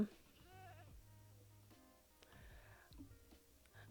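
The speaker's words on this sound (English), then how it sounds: "The screaming goat is back." A screaming goat in the Minecraft-style game FooCraft lets out faint, wavering bleats, a few short cries heard at low volume with no talking.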